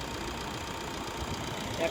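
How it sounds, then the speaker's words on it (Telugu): A 2019 Maruti Baleno Zeta diesel engine idles with the bonnet open, a steady low, even hum that runs throughout at moderate volume. "ఒకసారి ఇంజిన్ చూడండి."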